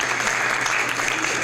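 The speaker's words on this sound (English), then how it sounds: "can we give a round of applause to our scribers?" Community workshop audience clapping for the volunteer note-takers, a dense continuous wash of applause filling the whole short stretch.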